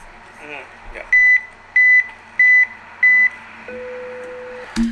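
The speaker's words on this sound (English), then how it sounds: "I made sure that I put a beep before the music" Four loud, evenly spaced electronic beeps from an editing setup, each about a quarter second long, followed by a longer lower steady tone, placed ahead of music for syncing.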